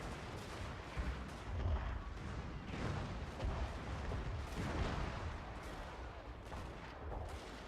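Marines open fire in the Fall of the Samurai strategy game, a dense rolling barrage of overlapping gunshots and booming artillery with a steady battle din beneath.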